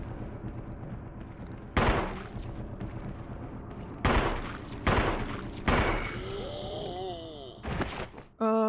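Gunfire in the video game Resident Evil 1: several loud, separate shots spaced a second or more apart ring out over a droning, eerie game soundtrack, with a final shot near the end.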